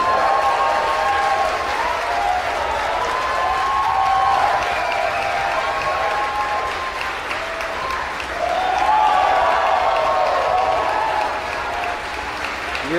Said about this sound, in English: You hear the cheering.